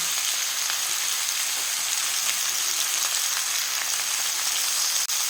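Ridge gourd, turmeric and potatoes fry in a wok for a Bengali dish, giving a steady, loud broadband sizzle with no pauses or voices, broken only by a short dip near the end.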